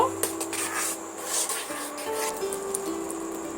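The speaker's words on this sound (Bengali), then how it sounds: "আমি খুন্তি দিয়ে এইভাবে ডালের মধ্যে মাখিয়ে নেব" A spatula rubs and scrapes through masoor lentil dal with cumin and chili powder in a pan, a close, continuous rasping stir with a faint background hum.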